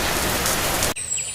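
Cartoon rain falling, a dense steady hiss of drops that cuts off abruptly near the end, leaving a faint high tone.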